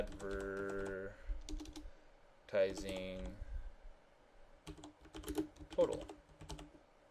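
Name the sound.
typing on a computer keyboard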